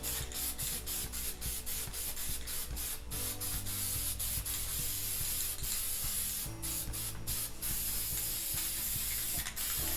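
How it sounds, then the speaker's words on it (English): Continuous hissing of an aerosol spray paint can coating a Christmas tree, steady and close, with brief pauses and short bursts throughout, no voices. "hit the spray paint again"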